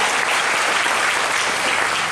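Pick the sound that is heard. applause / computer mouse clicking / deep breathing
applause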